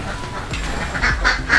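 Hybrid ducks calling from their pen behind a home hatchery, a few short nasal quacks rising over a steady low background hum, moderately close and without talk.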